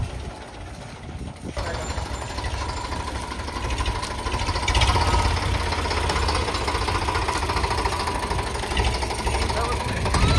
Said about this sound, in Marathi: मित्रांनो तिथनं ट्रॅक्टर येतोय बघा.